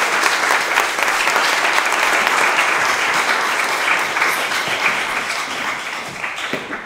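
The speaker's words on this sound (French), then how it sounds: "Merci, on peut l'applaudir très fort." Loud, dense applause from a conference audience fills the hall continuously, close and sustained for about seven seconds before slowly easing off.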